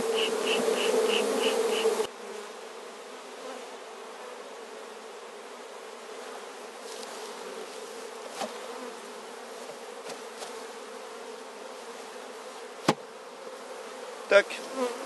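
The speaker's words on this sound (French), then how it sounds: "J'ai secoué les abeilles qui restaient dans la ruchette." Honey bees shaken out of a small nucleus hive buzz loudly and densely for two seconds, then settle into a quieter, steady hum. A few sharp clicks and taps punctuate the drone later on.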